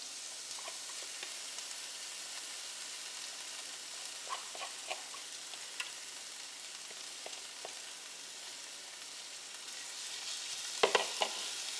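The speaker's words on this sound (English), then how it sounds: "I'm going to add the corn" Corn kernels fry in a pan with a soft, steady sizzle, punctuated by scattered light clicks of a utensil and a brief clatter of stirring near the end, close and without talk.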